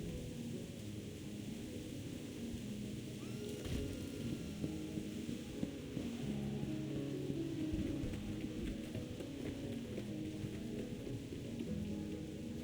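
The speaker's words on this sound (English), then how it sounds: "The rain's getting heavier!" A steady, dense hiss of heavy rain in the video game Reverse: 1999, with a low roll of thunder swelling partway through, all heard without voices.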